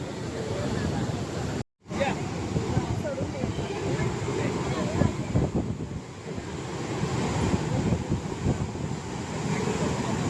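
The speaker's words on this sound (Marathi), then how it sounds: "समुद्र तर खवळायला आहे पुन्हा" Rough sea surf rolls onto the shore at Ganpatipule on the Konkan coast, a loud continuous wash of breaking waves with wind buffeting the microphone and a brief dropout near the start.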